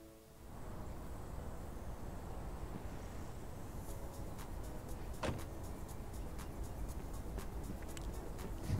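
Fire truck engine in the emergency simulation game Notruf 112, a steady low rumble heard from inside the vehicle with faint clicks and knocks over it, continuous throughout.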